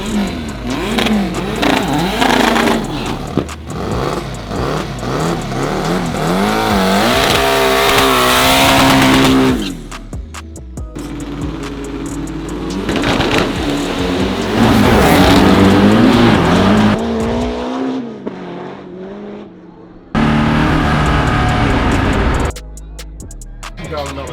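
A loud V8-powered Volkswagen race car revs hard in repeated bursts, pitch climbing sharply, with abrupt cuts between runs on the drag strip.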